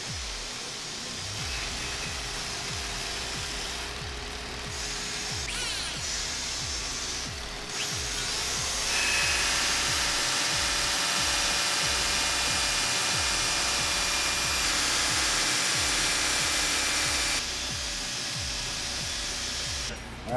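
Power polishing tool grinding and polishing a paintless dent repair tool in a workshop, a continuous high whirring whine with rough grinding texture, the pitch and load shifting a few times as the piece is pressed, loud and near.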